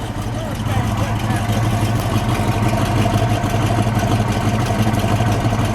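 A 1970 Mercury Cougar Eliminator idles with a steady low rumble, the engine note swelling slightly as it is blipped once, with a voice talking over it close by.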